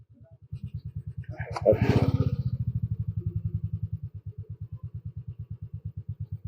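A motorcycle engine idles with a fast, even putter, swelling briefly as a voice speaks over it, then settling back to a steady chug.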